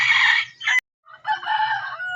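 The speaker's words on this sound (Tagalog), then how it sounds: "ang ating mga alagang manok po" Farm chickens: a rooster crows loudly and close by, breaking off briefly before a second long crow, with low soft clucking from hens underneath.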